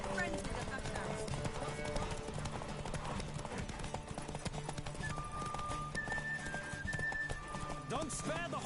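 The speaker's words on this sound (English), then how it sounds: "Don't spare the horse!" Horse hooves clip-clop at a fast gallop in The Witcher video game, a steady rhythmic pounding with occasional neighs, mixed with game music and a voice talking over it.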